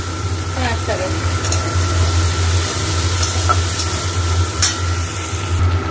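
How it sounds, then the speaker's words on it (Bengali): Chopped onion, already-fried garlic and green chili crackle in hot oil in a home kitchen, a loud continuous sizzle with occasional stirring scrapes close by. "এবারে আমি দেবো এই যে কুচনো পেঁয়াজ, এবার এটাকে ভাজবো পেঁয়াজটাকে"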